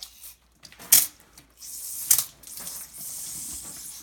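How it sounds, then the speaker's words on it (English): Short, bright hissing spurts of water and air escape from a stainless steel water filter housing as its pressure-release button is pressed, followed by a steadier soft hiss, close by and with no talking. "press the red button. This releases the pressure in the filter system itself."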